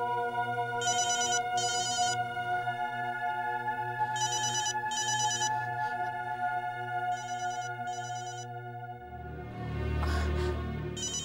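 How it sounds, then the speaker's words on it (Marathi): A phone rings indoors in a home, steady repeated electronic ringtone bursts over soft background music, with a louder rumbling noise swelling near the end. "फोन उचल"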